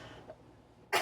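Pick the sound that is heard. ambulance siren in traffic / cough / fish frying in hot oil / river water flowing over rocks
cough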